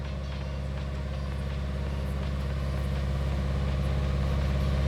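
A car engine held steady at about 2,000 RPM during a P0420 catalytic converter fault check, producing a continuous, loud, even drone that swells slightly toward the end, with no speech.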